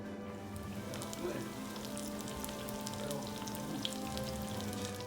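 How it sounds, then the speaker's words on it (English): A tester piece bubbles and sizzles in hot frying oil while jägerschnitzel is being made, giving a quiet, steady crackling fry with scattered pops. "if you put it into the oil and it starts bubbling and sizzling, like that"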